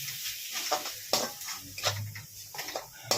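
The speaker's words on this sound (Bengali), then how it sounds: "শাহি গরম মশলা একটু দিয়ে দিচ্ছি, দিয়ে আমি ভালো করে এটাকে কষে নিচ্ছি।" Masala paste with shahi garam masala being stir-fried in a pan for echor chingri, soft sizzling under repeated spatula scrapes and clinks against the pan, no one speaking.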